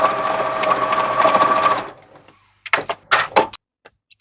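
Sewing machine running close by, stitching ribbon for a bow: a steady mechanical whirr of about two seconds, then a few short separate bursts as the last stitches go in.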